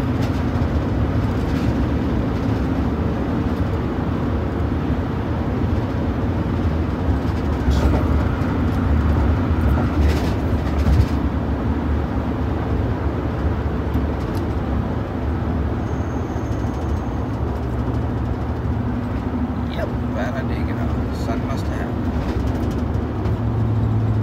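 Steady road traffic on a Dallas street, a continuous low rumble of engines and tires that stays constant throughout, with no voices.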